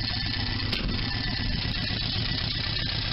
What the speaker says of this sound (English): So now that the engine's nice and warmed up, I've been driving it around and I'm up to operating temperature